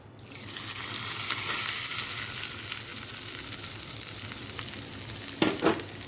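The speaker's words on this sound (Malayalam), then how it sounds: "ഇത്തിരി വെളിച്ചെണ്ണ ഒഴിച്ചിട്ടുണ്ട് അതിലേക്ക് ഞാൻ ഈ തേങ്ങ പതുക്കെ ഇടാണ് കേട്ടോ" Grated coconut dropped into hot coconut oil, a loud, close, continuous sizzle that fades slowly, with a short spoon clatter near the end.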